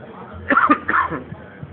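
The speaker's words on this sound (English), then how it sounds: "You're going to get video of me coughing a lot because I'm sick" A sick man gives a couple of short, rough coughs close to the mic, followed by a low throat sound, in a quiet room.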